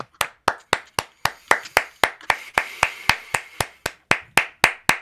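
Sharp, evenly spaced claps ring out one after another, loud and close, about three per second with no voices.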